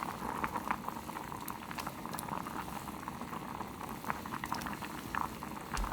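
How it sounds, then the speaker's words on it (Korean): Anchovy doenjang stew with tofu bubbling at a steady boil in a pot, a dense, continuous patter of small popping bubbles heard close up with no talk over it. "이건 오래 끓일 필요가 없어요 보글보글 끓고 있죠?"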